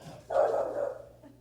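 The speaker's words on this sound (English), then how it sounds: "I don't know what he's barking at" A single dog gives one short, muffled bark indoors, fairly faint and close, followed by quiet room tone.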